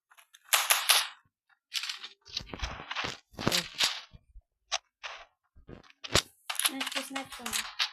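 Sniper rifle shots ring out in a video game team deathmatch as several sharp cracks spread across the moment, with voices talking between them.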